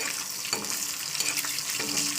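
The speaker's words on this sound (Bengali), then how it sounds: "দেখতে পাচ্ছেন ডিম ভাজা হচ্ছে" An egg fries in a pan with a steady, close crackling sizzle throughout, a few sharper pops and spatters breaking through the hiss, with no talking.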